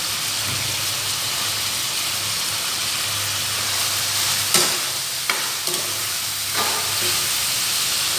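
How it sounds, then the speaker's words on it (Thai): Tender pork bones, boiled soft, stir-fried with bird's eye chilies in a pan: a steady, close hiss of sizzling oil with a few sharper scrapes and clanks of the spatula near the end. "แล้วก็มาผัดพริกขี้หนูชนนะครับ"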